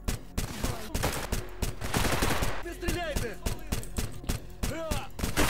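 Rapid automatic gunfire from a Gauss automatic rifle in the STALKER game, loud bursts of repeated sharp shots with brief pauses, mixed with other weapon reports and whooshing effects throughout.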